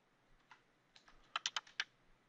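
Keyboard typing in a quiet room: a few scattered light keystrokes, then a quick burst of five or six sharper, louder clicks near the end, no talk.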